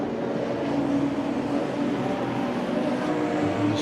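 A BMW 235i race car in a BMW M Performance Parts race series heads past on the circuit, a steady engine drone held throughout at moderate distance, with no voices.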